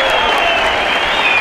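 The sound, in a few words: applause for athletes at a ceremony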